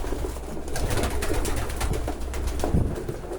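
Pigeons cooing inside a pigeon loft, several soft low throaty coos in quick succession over a faint rustling background, close and fairly quiet.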